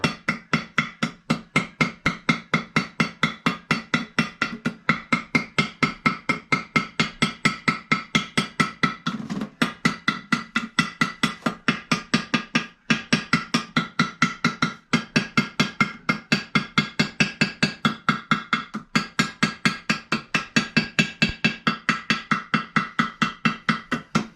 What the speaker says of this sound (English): whack away with the hammer